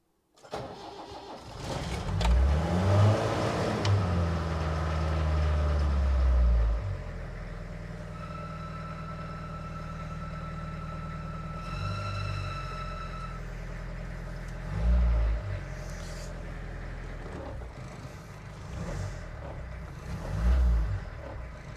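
A diesel car engine cranks over, catches and settles into a steady rumbling idle, with a few brief revs along the way. It is loud and close throughout, with no talking.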